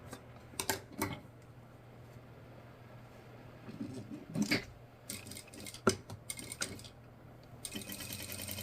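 A home sewing machine runs a straight seam along the folded edge of fabric for an Easter basket, in short intermittent bursts of mechanical whirring and ticking with quiet gaps between them.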